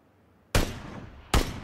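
Two sharp, loud gunshots in the video game PUBG: Battlegrounds, about a second apart, each with a quick decaying tail, over a quiet background.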